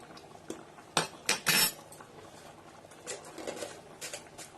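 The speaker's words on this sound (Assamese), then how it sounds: "এনেকৈ অলপ লৰাই দিলো" A spoon stirs boiling potato and rajma dal in a pot after garam masala is added, giving a few close, sharp metallic clinks and scrapes early on, then softer, quieter stirring taps.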